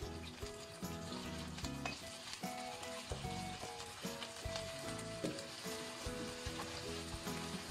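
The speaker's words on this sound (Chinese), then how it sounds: "我们沿着锅边烹入适量的料酒去腥" Cooking wine splashed around the rim of a hot wok of fried ginger and scallion gives a loud, steady sizzle and hiss, with stirring and music running underneath.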